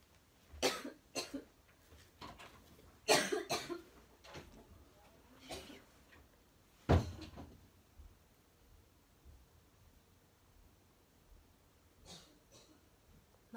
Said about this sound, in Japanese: 咳が出そう。